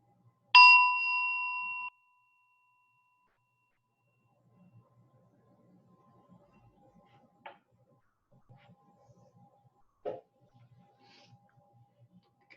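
A meditation bell is struck once, ringing clear and sustained for over a second before decaying, followed by quiet room sounds and two fainter taps later on.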